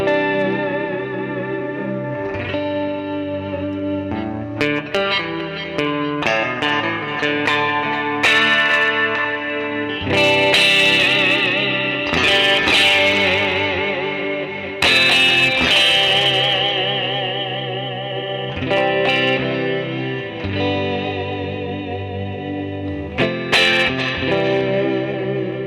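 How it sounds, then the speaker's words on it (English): Electric guitar played through a Guitar Rig 5 Atmosphere preset on a Charvel San Dimas, with chords and sustained notes soaked in chorus, echo and reverb over roughly twenty-five seconds, steady and loud with no talking. "Atmosphere guitar, Atmo Git."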